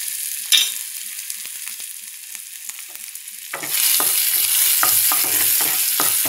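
Crushed garlic goes into hot oil already frying cumin seeds. A quiet pan with light clinks suddenly bursts into loud, steady sizzling, and a spoon stirs with sharp scraping strokes.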